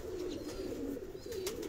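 Lahore breeder pigeons coo in a continuous low, rolling murmur at close range, with a few faint higher chirps over it.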